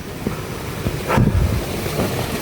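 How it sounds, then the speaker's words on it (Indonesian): Wind gusts steadily across a village below a mountain slope, a broad rushing roar buffeting the microphone, swelling briefly near the middle with no talk. "Anginnya juga aduh menggeliwir banget"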